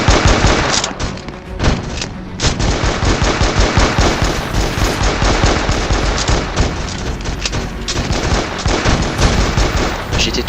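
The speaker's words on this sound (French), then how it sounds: "On tire maintenant!" Gunfire in the Roblox game Brookhaven, loud sustained bursts of rapid automatic shots with booming hits, nearly continuous for several seconds.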